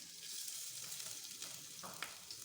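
Grated ginger frying in oil in a pan, giving a steady, close hiss and crackle of sizzling throughout, with a couple of brief louder pops near the end and no talking.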